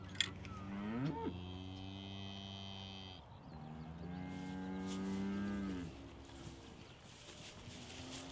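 Cattle on a New Zealand farm at calving time, cows lowing in long, deep moos one after another, a pair of overlapping calls drawn out across the field at moderate distance with no talk.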